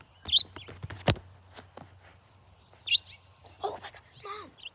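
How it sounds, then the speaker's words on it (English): Birds calling outdoors: a few sharp, separate chirps and tweets against quiet background, with scattered thumps and brief voices between them. "we hear a bird"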